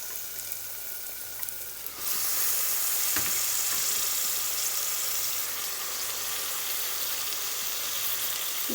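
Spinach greens drop into hot oil-rich masala for keerai sadam, setting off a sudden, loud, steady sizzle after a quieter simmer, with a stirring clatter shortly after and continuous frying hiss throughout.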